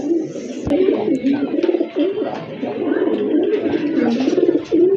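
Pigeons coo continuously at close range in a pigeon sale setting, a steady run of soft throaty rolling calls with no talk over them.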